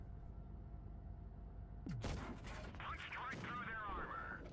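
A tank destroyer fires a shot in World of Tanks Blitz during a tournament match, a sudden loud cannon blast with a rumbling, whining tail, heard over a faint background of game noise.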